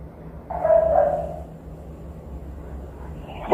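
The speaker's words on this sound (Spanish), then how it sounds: "creo que aquí se escuchan ladridos" A dog barks faintly in the background of a recorded phone call, with a short muffled burst of barking under a steady low hum of line noise.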